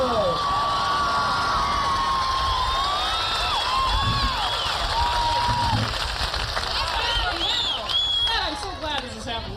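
Audience at a comedy show in Old Sacramento cheers, whoops and claps steadily to welcome a female comic to the stage, the loud crowd noise holding throughout and easing only near the end.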